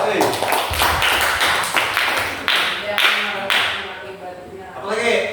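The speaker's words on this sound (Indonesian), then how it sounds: "Tepuk tangan dulu." Classroom students clap together in a loud burst of many hands, fading gradually toward the end, with voices talking over it.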